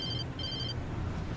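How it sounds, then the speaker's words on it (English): A phone gives two short electronic ring bursts, clear and fairly close, over a low steady background hum. "My phone is making the noises."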